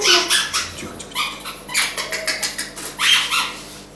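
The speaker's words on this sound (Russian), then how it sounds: "Первый пес, с которым мне довелось фотографироваться, это огромная охотничья собака." A large hunting dog barks and yips in a run of repeated sharp calls at close range, with bursts clustered near the start, middle and end and no talk over them.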